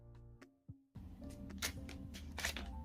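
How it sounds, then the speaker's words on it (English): Tarot cards are shuffled close up, with a few short riffles and flicks followed by a continuous soft rustle of cards. "So I'm just going to shuffle the cards"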